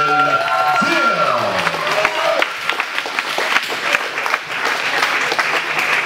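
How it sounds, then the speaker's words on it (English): Fight night crowd at a kickboxing and MMA event bursts into sustained applause and cheering, dense and loud, with an announcer's amplified voice carrying over the start. "make some noise for Justin"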